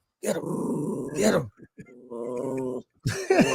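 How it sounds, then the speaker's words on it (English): A dog growls and whimpers in short bursts close by, with a lower grumbling stretch in between, while someone talks nearby. "Look at that damn dog, man."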